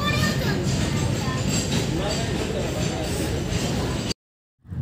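A passenger train ride just after boarding at Dankuni station: a steady rumbling, rattling carriage noise runs throughout with people talking over it, then cuts off abruptly into silence.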